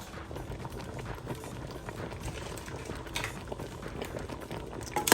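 Nigerian ogbono soup simmers uncovered in a pot, giving a steady, close bubbling and gentle popping that stays even throughout.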